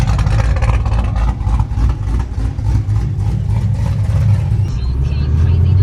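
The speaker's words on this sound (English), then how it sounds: "Let's listen to the car." A 2011 Camaro SS engine runs steadily with a deep, continuous rumble, close and fairly loud, with no talking over it.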